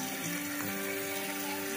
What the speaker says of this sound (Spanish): Aquí ya vamos a abrir el envase para que el agua inunde